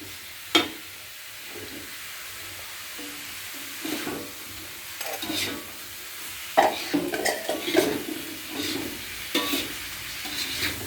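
Fried tofu being stirred into a hot pan of bean sprouts for spicy sprout balado, with soft scraping and stirring bursts over a faint sizzle, close and moderately loud, no talking.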